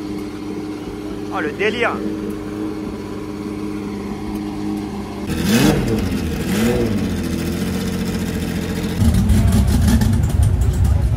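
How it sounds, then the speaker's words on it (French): A Porsche 917 race car at the Concorso d'Eleganza Villa d'Este bursts into life and revs hard with loud rising and falling engine sweeps, then settles into a rough, throbbing idle. Other engines run in the background and someone speaks briefly. "On s'est fait interrompre par le démarrage de la 917."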